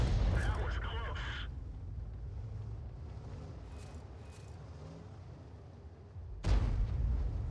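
The GW E 100 artillery tank fires in World of Tanks, with a loud booming burst at the start and another near the end, separated by a low, rumbling engine and wind drone.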